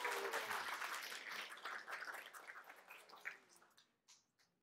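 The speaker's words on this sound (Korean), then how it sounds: "박수 한번 쳐주셔야 되는 거 아니에요?" Applause from a studio audience at a televised lecture on reading and life change, a dense burst of clapping that thins and fades toward the end.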